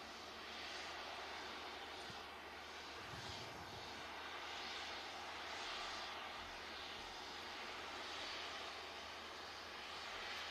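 A fixed-wing airliner taxiing at Manchester Airport gives a steady, distant engine rumble and whine that holds evenly throughout, with no voices.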